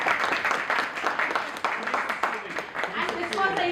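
An audience at an informal tea-corner gathering applauds, a continuous close wash of clapping hands with voices talking and calling out over it.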